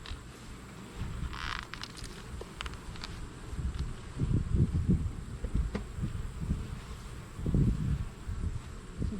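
Honeybees in a hive box after mite treatment hum in a low, steady drone, swelling louder in a few bursts near the middle and end, with faint rustling over it and no talk.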